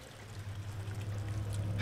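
Steady trickling, pouring water from a leak in the horror game Amnesia: The Dark Descent, a continuous wet wash with low rumble that swells slightly toward the end, no talk.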